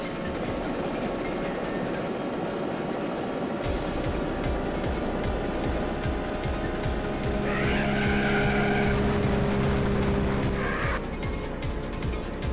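Racing car engine in the original The Need for Speed game, a steady continuous drone with a rise in pitch and sustained revving tones toward the end, loud throughout with no talk.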